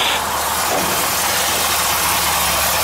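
A 1958 Chevrolet Apache pickup with a 327 small-block V8, headers and power steering idles with its hood open, holding a loud, steady, low rumble with no talk over it.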